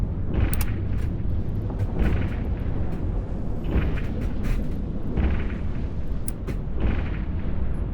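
Ship weapons firing in the EVE space game, a dense continuous barrage of booming blasts and bursts with repeated louder impacts through the whole stretch.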